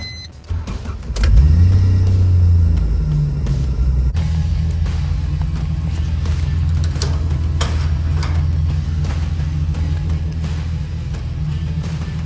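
A Toyota Hilux with a supercharged L67 engine swap cranks and fires about a second in, then settles into a loud, steady, deep idle that continues throughout.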